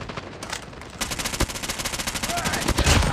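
An AS VAL rifle fires in a video game, a rapid, evenly spaced automatic burst of suppressed shots, close and loud, following a brief quieter lead-in.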